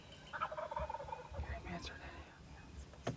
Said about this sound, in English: Birds gobbling everywhere.